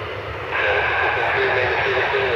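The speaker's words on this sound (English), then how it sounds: "Chicago with the UPS 767 on final" UPS Boeing 767 on final approach to Chicago: a steady jet engine roar with a high whine that swells after a moment, heard under talk.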